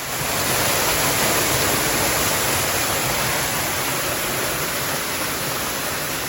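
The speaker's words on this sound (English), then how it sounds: "That's a backside of a waterfall." A waterfall heard from behind the falling water: a loud, steady broadband roar of crashing water with no pauses, no other sounds and no voices.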